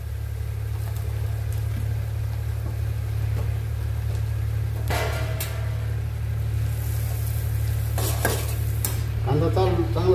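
Sliced onions, about four, sizzle steadily in hot oil with masala while a spoon stirs and scrapes the pan in a loud, continuous rhythm, for a sour-spicy drumstick-flower vegetable dish.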